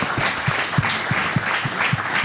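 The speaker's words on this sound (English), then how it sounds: "Let's give another round of applause to our amazing cast tonight." Live theatre audience applauding the cast after a performance: dense, steady clapping from a crowd, with no voices over it.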